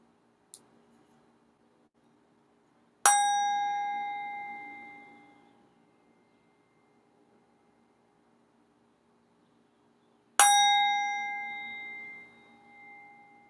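A meditation bell is struck twice several seconds apart, each a clear close ring that sustains and slowly fades into near silence, with a faint tick just before the first strike and no talk.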